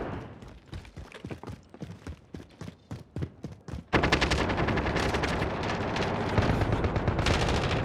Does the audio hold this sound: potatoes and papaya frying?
no